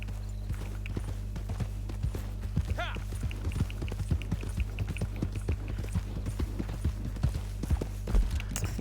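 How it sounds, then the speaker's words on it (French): Horse hooves gallop in Red Dead Redemption, a loud rapid clip-clop rhythm pounding steadily over a low droning hum, with a brief whinny and a voice talking over it. "Mon cheval, comme d'hab."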